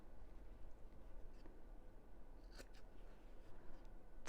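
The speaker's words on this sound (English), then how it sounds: "Let's snip off these corners." Scissors snip off the corners of a sewn fabric bag in a quiet sewing room, giving a few brief, soft clicks close by.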